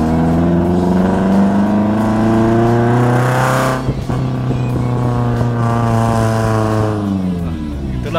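A Toyota Agya with a full-system aftermarket exhaust revs loudly and close, its engine note climbing and dropping in sustained waves with a brief dip midway.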